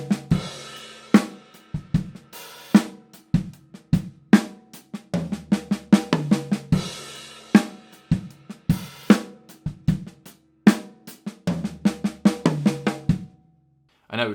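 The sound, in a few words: drum fill, first note of each group on toms, rest snare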